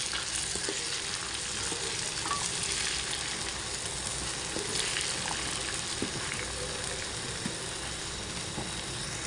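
Hog plums frying in a pan for pickle, a constant dense sizzle of hot oil with occasional soft scrapes and stirs, steady and close without pause.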